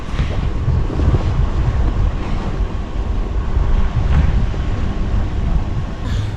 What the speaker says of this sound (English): it protrudes out and the wind flaps back and forth